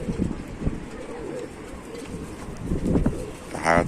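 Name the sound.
pigeons cooing in a pigeon loft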